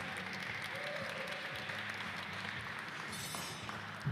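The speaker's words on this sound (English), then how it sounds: "Let's give them a round of applause for finishing that piece." An audience at a museum glassblowing demonstration applauds a finished glass piece with moderate, steady clapping that holds for the whole stretch at a middling distance.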